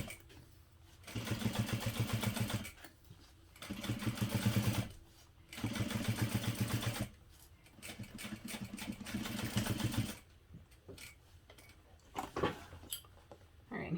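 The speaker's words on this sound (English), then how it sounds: "I'm top stitching using an 1/8 of an inch seam allowance" A sewing machine top stitching a parachute-fabric knapsack runs in several bursts of steady, rapid mechanical whirring, close and fairly loud, with short pauses and handling clatter between runs.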